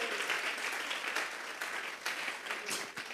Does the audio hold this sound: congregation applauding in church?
yes